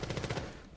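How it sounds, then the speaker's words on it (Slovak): Rapid gunfire in a competitive multiplayer video game match, a dense burst of repeated shots close and loud for under a second, ending in one heavier blast. "Ome sa tam strieľa s Jakeom."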